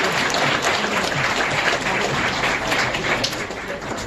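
A wedding ceremony crowd applauds, dense continuous clapping from many hands that fills the room steadily and loudly, with a faint voice mixed in.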